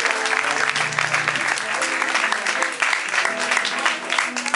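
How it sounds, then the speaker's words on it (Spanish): Concert audience applauding during a live band show, with dense sustained clapping and some crowd noise throughout, while music or voices continue underneath. "Un fuerte aplauso para la gente del fondo que nos está escuchando allá abajo."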